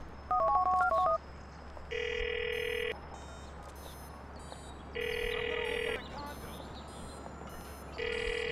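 Phone keypad tones dialing a number in the video game GTA IV, a quick run of beeps followed by three long evenly spaced ringback tones over faint background hiss.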